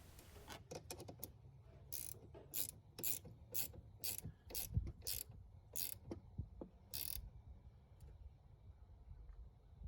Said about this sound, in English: install the positive terminal connector first and tighten it down snugly